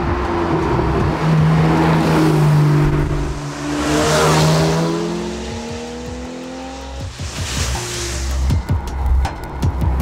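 A Porsche 911 Targa driving hard on asphalt, its engine loudly revving and shifting through rising and falling pitches as it passes close, with a rushing swell of road and wind noise.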